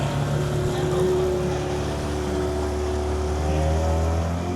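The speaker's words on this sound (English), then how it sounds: "These are power boats. Definitely power boats." A steady power boat engine in Southport drones at a constant pitch, fairly close and loud, with a continuous low hum throughout.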